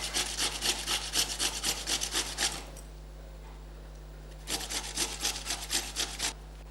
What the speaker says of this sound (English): now I've grated the potatoes, okay, raw potatoes.